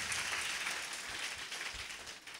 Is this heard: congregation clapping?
yes